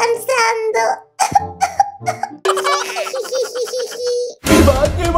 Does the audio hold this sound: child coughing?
yes